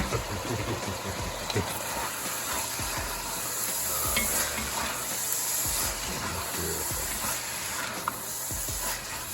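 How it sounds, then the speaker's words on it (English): Tomato and prosciutto sauce with basil frying in a pan, with a soft continuous sizzle, intermittent stirring scrapes and a steady background hum. Quiet and close, with no voices. "Let that fry for about 5 more minutes"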